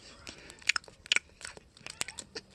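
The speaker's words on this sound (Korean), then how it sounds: "쩝쩝거리고 먹는 거 아니야?" Wet, smacking chewing and crunching bites from someone eating noisily, a string of short irregular close-up bursts with no talk over them.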